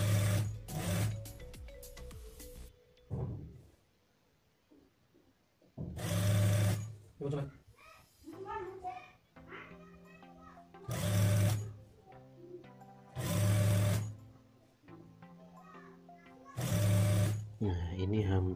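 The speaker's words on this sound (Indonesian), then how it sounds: "ini 3 lapis kita gabungkan seperti ini, langsung kita jahit jadi satu sampai terus ke bawah sampai habis." A sewing machine stitches three fabric layers of a Makassar-style hijab together in several loud, close bursts of rapid whirring. Someone talks in the pauses between runs.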